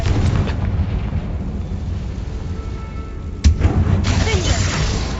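In the Hogwarts Legacy video game, the Confringo fire spell explodes with a loud, continuous roaring rumble and a sharp burst partway through, followed by more crackling blast noise.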